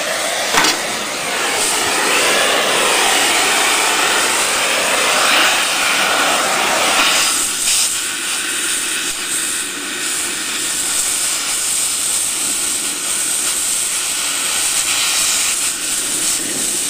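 A propane and oxygen torch burning with a steady, loud roaring hiss that shifts in tone partway through, continuing alone without speech.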